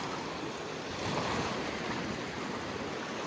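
Sea waves wash steadily onto the shore near Ratnagiri, a continuous broadband surf roar mixed with gusty wind buffeting the microphone, with no voices.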